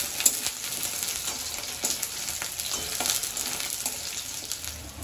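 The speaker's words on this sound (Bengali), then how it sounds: "পেঁয়াজগুলো আমি লাল লাল করে ভেজে নেব।" Chopped onions frying in oil for a chicken curry, a constant bright sizzle close by, broken by occasional stirring scrapes and light taps as they cook toward reddish brown.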